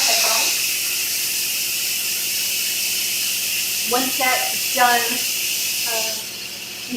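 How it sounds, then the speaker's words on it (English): Steam hisses steadily and loudly from the pressure-release valve of an Instant Pot cooking split pea soup, a continuous broadband rush throughout while someone speaks over it. "I'm going to release the pressure on this first Instant Pot."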